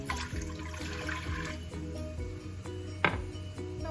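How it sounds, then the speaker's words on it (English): Tap water running steadily into a pot for boiling pasta in a home kitchen, a continuous splashing flow with one brief clatter near the end, no talk. "I am going to put water for boiling."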